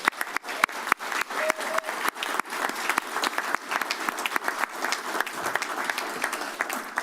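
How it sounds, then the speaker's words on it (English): Audience applause at a Santa Cruz County Board of Supervisors meeting: sustained, dense clapping from a roomful of people with sharp individual claps standing out, continuing steadily for several seconds without speech. "So one more round of applause for everybody."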